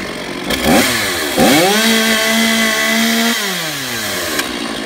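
A chainsaw revs to a loud, high whine at full throttle, eases back, and then drops abruptly as the chain brake engages, leaving a lower idle.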